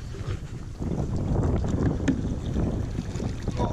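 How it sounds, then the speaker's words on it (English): Wind gusts roar across the microphone while a kayak moves over flood water, a loud, continuous low buffeting close up with faint splashes and no voices. "the wind is starting to pick up"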